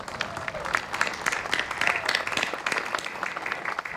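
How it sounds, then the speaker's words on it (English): Outdoor crowd at a town square park grand opening claps steadily for park workers, a dense patter of many hands holding an even level for the whole stretch. "Let's give them a round of applause"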